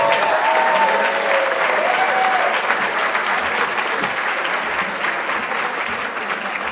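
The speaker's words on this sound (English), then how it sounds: "big round of applause for everybody that has been so generous" Steady, full applause from a crowd at a charity celebration, sustained and even throughout with faint voices mixed in.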